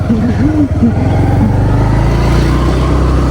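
A car stuck in mud revs hard and wheelspins, its engine holding a loud, steady low roar close by while people talk excitedly over it.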